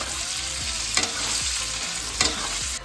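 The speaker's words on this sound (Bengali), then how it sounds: "আলুটাকে একটু ভেজে নিই" Potatoes fry in a pan with a continuous close sizzle, and a utensil stirs and scrapes through them in a few sharp bursts, loud and alone without talk.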